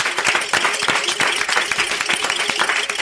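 Audience applause in a live radio studio, a dense steady wash of many hands clapping, close and continuous throughout with no voices over it.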